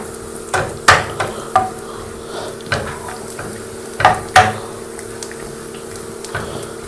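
Cashew nuts frying in hot ghee for Malabar-style ghee rice, a soft steady sizzle underneath with several sharp clinks and stirring knocks of a spoon against the pan scattered through, close and moderately loud, no talking.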